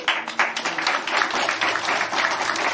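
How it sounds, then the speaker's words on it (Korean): Dense clapping from an audience welcoming officials at a Korean body care association ceremony, steady and fairly loud across the whole stretch with no voices over it. "박수로 환영해 주십시오."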